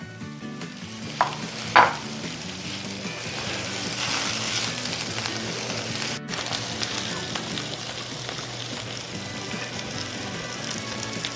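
Pumpkin seeds and a dab of butter sizzle steadily in a pan with a few sharp clacks of stirring early on, a close, continuous frying hiss with no voices.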